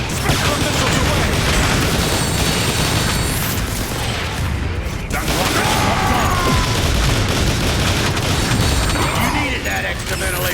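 Missile salvos launch and explode in the video game Transformers: War for Cybertron, a loud continuous barrage of booms, mechanical clatter and gunfire-like bursts with no letup.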